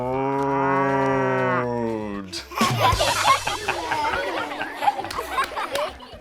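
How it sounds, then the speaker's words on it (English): A cow gives a long, loud moo that fades out, followed by lively chatter and laughter from several people. "No, cows go moo."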